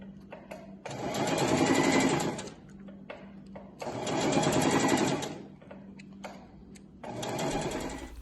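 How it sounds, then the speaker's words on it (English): A sewing machine stitching fabric runs in three loud, close bursts of fast, buzzing mechanical whir, each lasting a couple of seconds, separated by quieter pauses with faint clicks. "Continue to stitch the fabric all the way down to the end."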